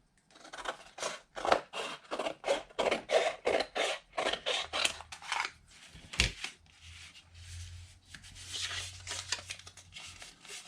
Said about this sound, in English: take my scissors and just trim off this excess